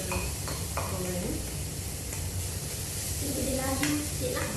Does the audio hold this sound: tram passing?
no